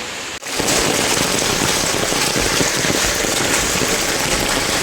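Heavy monsoon rain pours onto a flooded street in Nalasopara, Mumbai, a loud, unbroken hiss and patter that starts after a brief gap at the very beginning.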